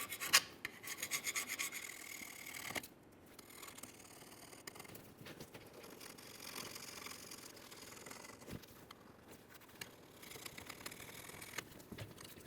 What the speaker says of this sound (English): let's use a flat scraper, and we're going to remove as much debris as possible from this area